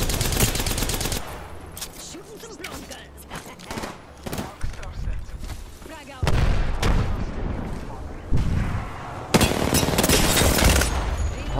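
Apex Legends gunfire: dense bursts of rapid automatic shots and single cracks, loud and close, continuing through the whole stretch as players talk over it.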